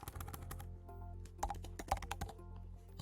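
Text being typed on a computer keyboard: a quiet, close run of irregular keystroke clicks that keep going steadily.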